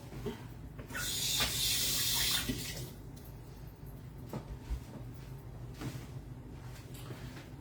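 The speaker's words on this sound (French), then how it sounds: "je vais juste la passer sous l'eau" A large tomato is rinsed under a running kitchen tap for about two seconds, a bright rush of water followed by quieter handling sounds and small knocks.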